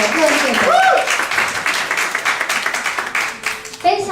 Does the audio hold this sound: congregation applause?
yes